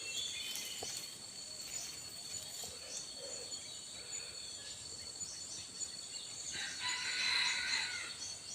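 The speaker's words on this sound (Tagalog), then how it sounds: "Napakagandang tilaok mga ka-hunter." A decoy rooster used for hunting wild junglefowl crows outdoors among insect and cricket buzz, one faint call early and another fuller crow near the end, with no voices.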